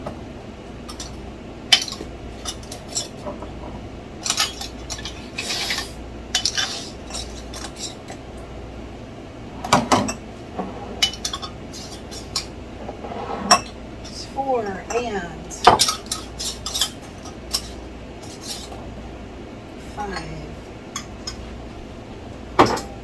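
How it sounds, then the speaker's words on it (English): Lids go onto glass jars of homemade chili salsa in a kitchen, with scattered clinks, clacks and scraping twists of metal and glass coming at irregular intervals, some louder taps standing out over a quiet background. "Now I'm going to put the lids on."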